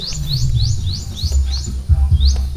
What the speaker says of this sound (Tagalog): may ibon dito siguro